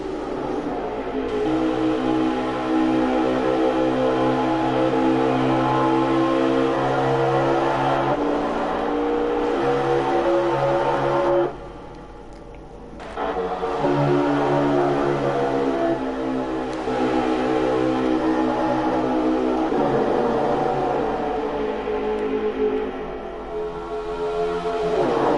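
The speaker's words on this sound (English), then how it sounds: "while we have all these trucks together, I think it'll be a good time for us to do our Sim Sounds of Racing here at Las Vegas" Racing truck engines roar continuously at Las Vegas in a sim racing game, a dense wall of several revving motors that drops away briefly midway before surging back loud.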